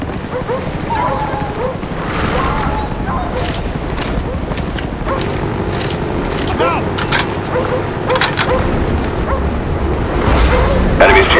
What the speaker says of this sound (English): Friendly dogs inbound.